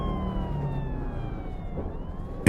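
An ambulance siren, its faint, drawn-out wailing tones gliding slowly downward over a low road rumble, cut off by a sudden loud thump at the very end.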